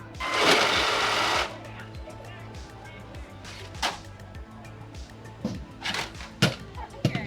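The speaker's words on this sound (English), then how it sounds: "So these rollers spin forwards and these spin backwards, and then we keep a coral right in the middle." Intake rollers on a FRC REEFSCAPE competition robot, driven by two motors, whir in a loud burst at the start and then give way to a steady repeating mechanical pulse. Scattered sharp clicks and knocks follow, with no talking.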